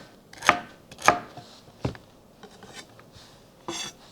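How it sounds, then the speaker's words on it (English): A knife slices celery on a cutting board in a few distinct, crisp chops with irregular gaps between them, close by and moderately loud, with no voices. "So when you are chopping the celery, you can cut them into slices"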